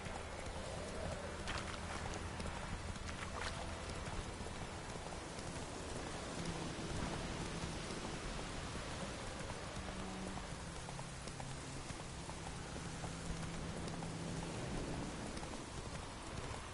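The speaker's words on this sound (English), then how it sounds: "Let it rain." Steady, even rainfall in the video game The Witcher 3 forms a continuous wash of soft patter across the whole stretch. No distinct thunderclap stands out.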